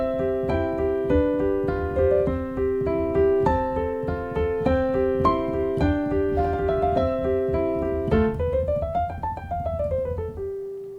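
A well-known Mozart sonata played on solo piano, with a running melody over a steady accompaniment of repeated notes, ending in a rising and falling flourish, close and clear with no talking.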